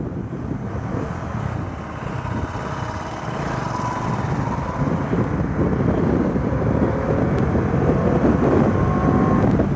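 A motorcycle rides at speed on a road after chain lubrication, giving a steady engine drone and heavy wind rush that grows slightly louder over the stretch, with no talk.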